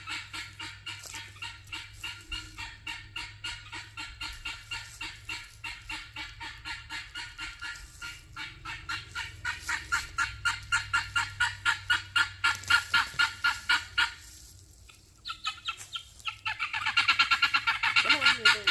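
Guinea fowl calling nearby in a rapid, rhythmic series of harsh, grating clucks that grow louder, break off briefly, then resume in a busy burst; no talking.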